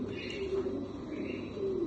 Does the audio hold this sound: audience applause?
no